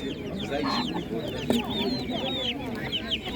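Chickens cluck and chirp continuously nearby amid a busy livestock market in Ivano-Frankivsk region, Ukraine, with a few brief voices mixed in.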